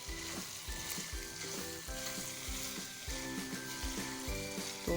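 Keema cooking with garam masala and biryani masala in a pan, with a steady loud sizzle broken by repeated scraping stirs of the spatula and no talking.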